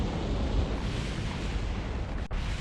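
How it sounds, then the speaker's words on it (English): A spacecraft explodes in Kerbal Space Program, heard as a steady, loud low roar and rumble that holds for a couple of seconds before briefly dropping out. "yeah, we're gonna explode"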